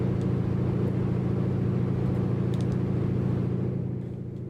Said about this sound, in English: Wind rush is quite nice.